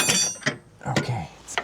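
A wrench being worked loose on the suspension of a 300,000 km Land Rover Discovery 3, with a few close metallic clanks and ratcheting clicks at uneven intervals, separated by brief quiet gaps.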